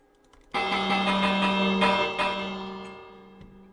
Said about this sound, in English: Hold on, let me ring the bell.